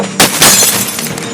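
A sharp crash of breaking glass, followed by a brief scatter of tinkling shards settling.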